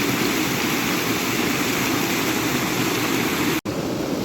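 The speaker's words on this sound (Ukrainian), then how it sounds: "І тут прісна вода стікає у море." Fresh water from an underground river outflow pours steadily into the Black Sea at Odesa's Langeron shore, a dense, continuous rushing wash close by with one sharp brief break near the end.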